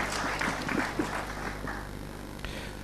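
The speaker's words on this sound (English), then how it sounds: "Can I have a round of applause for Akrit?" A short burst of audience applause, a dense patter of clapping hands that holds steady and fades slightly.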